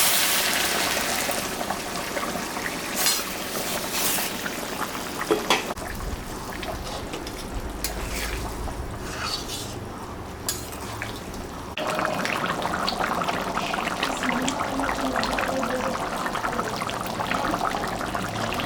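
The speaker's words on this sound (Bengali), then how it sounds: "মাংসটা কষানো হয়ে গেছে, ওখানে আমি গরম জল করে রাখছি, এটা আমি এখন দিয়ে দিই।" Hot water poured into a pot of mutton curry, a steady rushing pour with gushing and splashing that runs continuously and loudly, shifting in tone as the pot fills.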